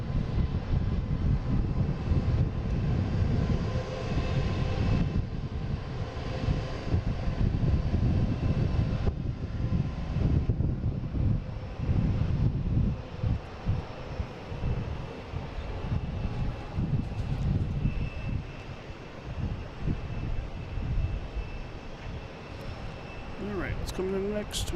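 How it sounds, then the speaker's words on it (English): A Cape Air airplane heading to Martha's Vineyard from Boston Logan drones at low strength, its engine rumble rising and falling unevenly with wind buffeting the microphone. "A Cape Air heading to Martha's Vineyard."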